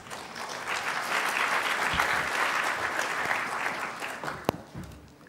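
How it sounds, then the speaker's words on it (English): A conference audience gives a steady round of applause that holds at moderate loudness. Near the end a sharper knock or clap stands out briefly. "Another round of applause,"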